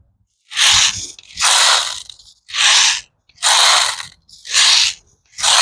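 Loading an Umarex HK416 .177 BB air rifle: six loud, harsh ratcheting cranks in a steady rhythm, each about half a second long with short pauses between, close up with no voices.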